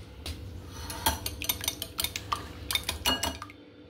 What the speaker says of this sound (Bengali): তো ডিমটাকে আমি ভালো মতন একটু নাড়াবো।